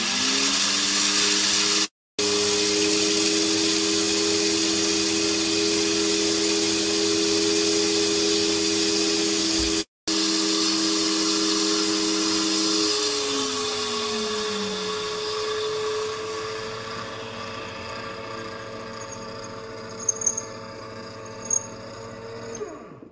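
A record washing machine's suction bridge vacuums dirty cleaning fluid off a vinyl record into a stainless steel tank, a loud steady motor whine and airy suction with two brief cutouts, shifting pitch partway and tapering off toward the end.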